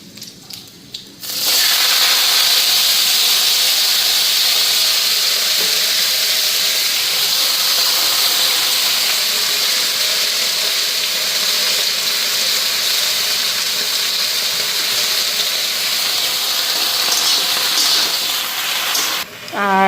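Bottle gourd leaves hit hot oil in a pan with green chilli and black cumin, giving a loud, steady sizzle and hiss that runs unbroken for most of the clip after a brief quieter start.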